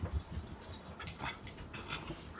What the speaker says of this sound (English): so the dogs are going a little bit insane